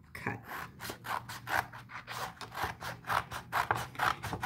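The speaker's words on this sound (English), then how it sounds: "I can even place them together and cut them together." Scissors snip repeatedly through sheets of red and green paper, cutting them into strips; a steady series of crisp, close rasping cuts comes roughly twice a second with no talking.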